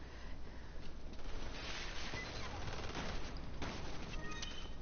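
A gun fires repeatedly in the Umbrella Corps video game, a dense stream of muffled, rapid shots running steadily throughout at moderate volume, with speech mixed in beneath.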